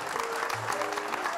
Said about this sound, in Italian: questo applauso prenditelo tutto, cara Valentina.